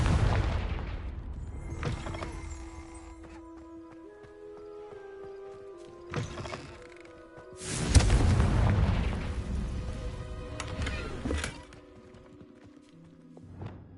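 Confringo blasting spells burst in Hogwarts Legacy, several booming blasts spread over the stretch, the largest near the middle with a long rumbling tail, mixed with tonal game effects and music and no talk.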